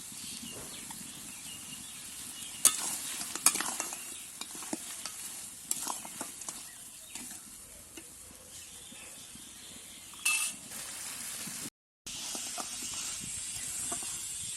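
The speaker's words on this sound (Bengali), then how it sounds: "চিংড়িটা ভালোভাবেই কষানো হয়ে গেছে" Shrimp sizzle in a pan while being stirred, a steady frying hiss with repeated scraping strokes of the spoon, close by, briefly cutting out near the end.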